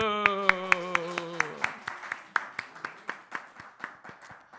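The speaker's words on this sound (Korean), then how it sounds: "박수" Church congregation at a Wednesday service clapping after a spoken blessing, first in a quick run of sharp claps, then settling into a steady unison beat that fades slightly, following a sung or spoken phrase at the start.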